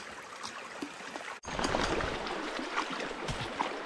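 A shallow gravel stream runs just below a small waterfall, a continuous rushing, babbling wash that is faint at first, then louder and closer after a brief dip, with no voices.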